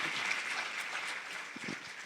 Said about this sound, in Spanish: Le damos un aplauso al Señor por lo que ha hecho en la vida de Sofía